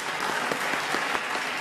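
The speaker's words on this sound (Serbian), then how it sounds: "Mi ovdje iz ekonomskih razloga nemamo publiku, ali imamo aplauz" Brief burst of applause from a crowd, steady clapping throughout.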